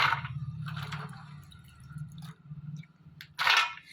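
Water splashing and pouring over groundnuts being washed, with soft drips and wet bursts coming in uneven spurts and a louder splash near the end, close by with no talking.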